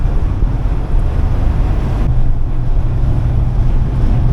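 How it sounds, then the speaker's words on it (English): Strong wind buffeting and roaring steadily around a Sprinter van on the road, a loud continuous low rumble with no break. "it's super windy"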